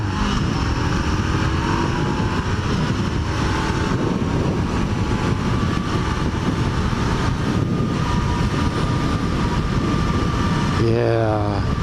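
A Honda CB500F motorcycle is ridden on its first outing of the year, its engine droning loud and steady throughout with heavy wind rumble, and a rider's voice occasionally heard over it.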